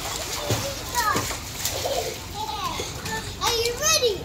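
Children splashing in water while bathing, with steady close splashing under excited kids' voices and chatter.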